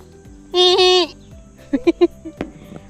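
A single drawn-out goat bleat rings out nearby at a zoo in Armenia, followed by a few short, sharp animal calls and faint background noise.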